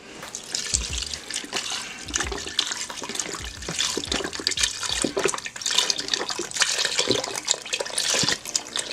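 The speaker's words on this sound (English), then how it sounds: "We're going to add about 5 cups of beef broth to this." Beef broth, about five cups, poured into a cooking pot, a steady splashing liquid stream running throughout with no talk.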